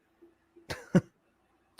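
A couple of short, harsh coughs close to the microphone in a quiet room, followed by silence and the start of another.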